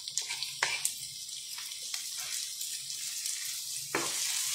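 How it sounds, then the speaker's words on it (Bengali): Tomatoes hit a hot pan for a prawn cheese pasta, giving a bright close sizzle that hisses and crackles steadily, with a few sharp knocks and clatters of utensils. "আচ্ছা তো এখন দিয়ে দিচ্ছি আমি টমেটো"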